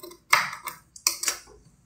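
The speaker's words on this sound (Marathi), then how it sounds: "एक्स्ट्रा भाग दिसतो तो कट करून घेऊ" Scissors snip off extra blouse fabric while sewing, giving a few short, close, crisp cuts in quick succession with brief quiet gaps between them.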